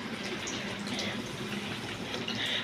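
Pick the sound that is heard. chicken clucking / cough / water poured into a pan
water poured into a pan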